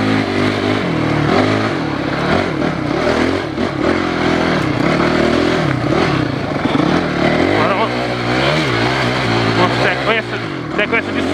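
An enduro motorcycle accelerates hard up a loose, difficult dirt trail during an enduro race at Monsenhor Tabosa. Its engine drones and revs steadily throughout while someone talks over it.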